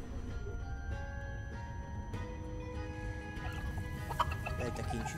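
Turkeys gobble in the video game Dungeons 4, a steady fowl-like chatter over a constant game background with a sharper call near the end, no talk.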